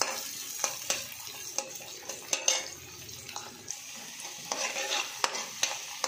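Small chopped onions fry in a pan for mutton dry, a soft hiss broken by repeated sharp scrapes and clinks of a spoon stirring, fairly quiet and close.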